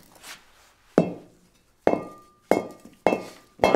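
A ceramic sculpture piece is dropped repeatedly onto a hard surface, giving five sharp, ringing clinks spaced under a second apart, one leaving a brief high tone as the fired clay starts to crack.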